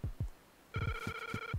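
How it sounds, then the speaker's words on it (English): A telephone rings in the 2019 Nintendo remake of Zelda: Link's Awakening, a synthetic chirping ring that comes in as short repeated bursts after a few low thumps. No voices are heard. "Oh, it's ringing for us."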